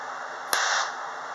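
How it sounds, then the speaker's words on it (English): A wire vaporized by a 570-volt high-voltage discharge, a single sharp crack followed by a brief hissing fizz that fades over a steady background hum, close and alone with no talk. "It destroyed that whole wire right off of that."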